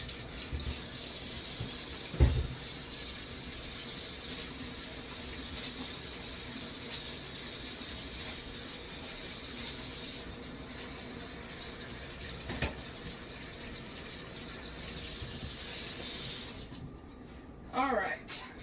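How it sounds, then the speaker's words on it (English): A kitchen tap runs steadily while hands are rinsed at a sink, a continuous soft wash of water with a few knocks and clatters, and a voice talking faintly underneath. "Let me rinse off my hands"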